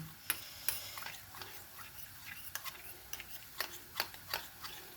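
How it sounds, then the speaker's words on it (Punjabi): A whisk taps and scrapes against a bowl while gram flour (besan) is beaten into milk for a green chili gravy, with quiet irregular clicks and stirring strokes, close and faint. "ਥੋੜਾ ਥੋੜਾ ਦੁੱਧ ਪਾ ਕੇ ਨਾ ਬੇਸਣ ਘੋਲ ਲਾਂਗੇ"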